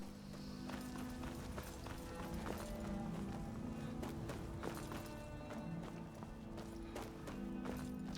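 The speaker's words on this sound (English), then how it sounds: "Hello, Mr. Horse." A horse trotting in modded Skyrim, with steady rhythmic hoof clops over continuous game music and ambience, moderately loud throughout.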